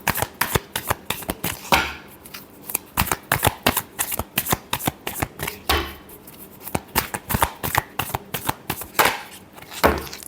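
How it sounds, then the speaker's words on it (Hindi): Playing or tarot cards shuffled by hand for a Cancer weekly horoscope reading, a close, crisp run of rapid riffles and snapping bursts that repeat in quick, uneven rhythm. "last shuffle"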